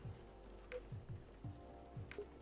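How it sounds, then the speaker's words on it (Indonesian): Quiet rain falling in the Coffee Talk video game, a soft steady patter with scattered drip-like ticks and faint low thuds spaced through the background. "di sini lagi hujan mulu, udah 4 hari hujan terus"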